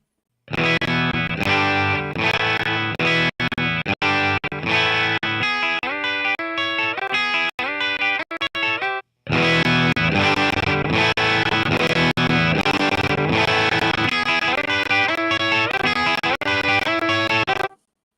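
Heavily distorted electric guitar plays chords and riffs through a tube amp, loud and continuous, with a brief break midway before resuming.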